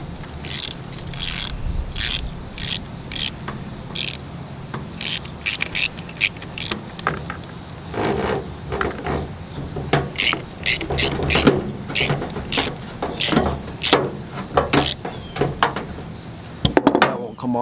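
A ratchet is worked to tighten a hose clamp on the charge tube of a Pro XP RPM, giving a long series of close, sharp ratcheting clicks in quick bursts with short pauses, while someone speaks at times.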